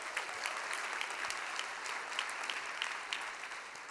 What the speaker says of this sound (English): So please give yourself a round of applause for just being here.